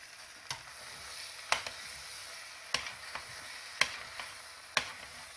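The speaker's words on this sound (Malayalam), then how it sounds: "നല്ലോണം മിക്സ് ചെയ്തിട്ടാ." Masala egg and pasta get tossed together in a pan, quiet sizzling under a few sharp spatula knocks spaced roughly a second apart, with no voices.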